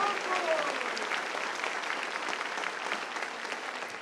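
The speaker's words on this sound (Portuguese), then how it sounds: "dá uma linda salva de palmas ao Senhor. Bata a palma, glorifica." A church congregation claps together at an early-morning Quadrangular service, producing dense, continuous applause that holds steady throughout, with possible voices faintly underneath.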